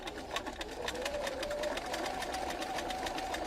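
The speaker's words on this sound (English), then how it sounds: "you want this to adhere to the fabric so you can move the fabric as the machine sews" An old-style Bernina sewing machine stitches fabric guided along a ruler with a ruler foot, giving a steady, fast mechanical whirring with rapid needle ticks that runs continuously at close range.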